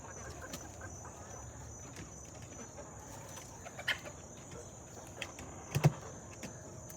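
Chickens and a turkey perched on a roosting bar give a few soft, scattered clucks and calls over a low background hum, with a couple of brief louder notes near the end.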